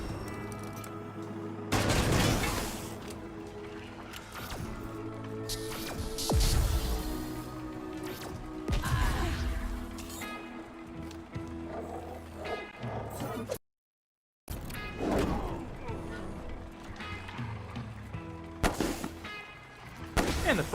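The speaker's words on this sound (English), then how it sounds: "light machine turret will help take some shots." Automatic light machine turret fire in the Wasteland 3 video game, loud repeated bursts of gunfire with booming impacts spread across the clip, a brief silent gap near the middle, layered over game music.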